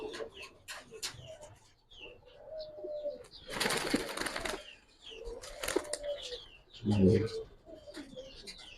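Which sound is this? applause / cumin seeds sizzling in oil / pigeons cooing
pigeons cooing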